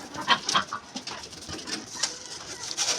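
Pigeons in a home poultry coop shared with chickens and ducks, giving soft scattered coos and calls alongside occasional clucks, moderately close and without talk.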